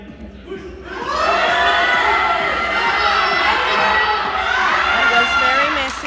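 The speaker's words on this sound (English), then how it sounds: "The crowd definitely getting around her here to try and smash this one out." A powerlifting meet crowd cheers and shouts through a lifter's squat attempt, a loud sustained roar of voices that swells after a quieter start and holds steady to the end.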